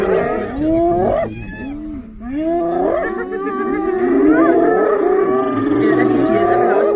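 Male lion roaring and snarling as it charges a large group of hyenas, with loud overlapping growls and whooping, cackling hyena calls in a continuous, chaotic clash close by.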